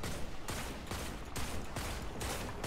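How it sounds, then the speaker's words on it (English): Rapid automatic gunfire from a weapon shooting an enemy in the Destiny 2 video game, loud and continuous, in repeated bursts of about half a second. "Yeah, just shoot this thing, Singo."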